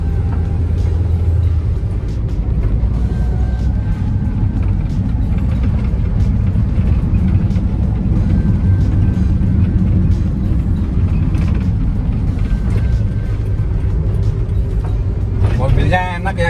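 A Daihatsu Gran Max 1.5 pickup truck driving on the road, its engine and road rumble steady and loud throughout, with people talking inside the cab and a brief rattle near the end.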